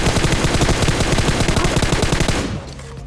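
Gunfire in a mobile battle royale game: loud, rapid automatic bursts layered into continuous covering fire that cuts off sharply near the end, leaving a low hum.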